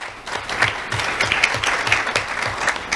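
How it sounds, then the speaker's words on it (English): Audience at a community awards ceremony applauds an award recipient, steady close clapping with distinct individual hand claps and a faint hum beneath. "Round of applause for Freddie."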